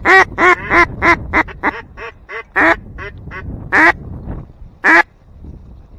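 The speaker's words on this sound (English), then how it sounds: "No, mallards." Mallard ducks quack loudly and close by, about a dozen sharp nasal calls in an uneven series, with short bursts and pauses between them.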